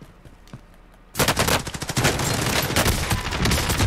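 Loud rapid automatic gunfire in Call of Duty: Warzone, likely from a light machine gun, bursts in after a second of quiet and continues as dense, close, sustained firing with no talking over it.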